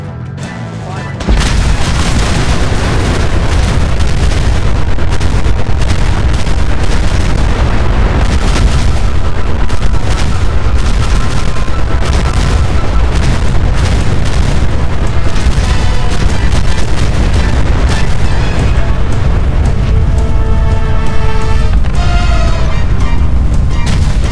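Gargantuan explosions in Fallout 4 tear through a battle with ghouls, a dense, continuous roar of booms and blasts at high volume after a short quiet start, with rapid crackling bursts layered on top and voices partly buried beneath.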